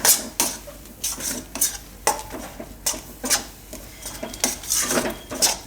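A spoon stirs coconut powder, dry ginger and spices in a pan over low heat, giving a series of close metallic scrapes and clinks at a loose, repeated rhythm with a faint background sizzle.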